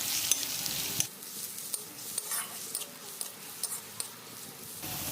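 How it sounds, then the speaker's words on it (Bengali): Turmeric, chilli and cumin spice paste fries quietly in a pan, a soft hiss broken by light scrapes and taps of a spoon, close and faint. "দিয়ে ভালো করে ভেজে নেব মশলাটা"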